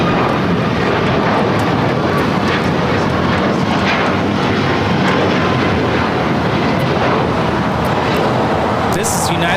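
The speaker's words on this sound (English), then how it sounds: "2361 taking off to Bozeman on the MAX 8." A United Airlines Boeing 737 MAX 8 on its takeoff roll at LAX, bound for Bozeman, gives a loud, steady jet engine roar that holds for the full stretch, with voices chattering faintly in the background.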